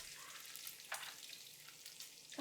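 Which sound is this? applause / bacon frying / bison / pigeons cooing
bacon frying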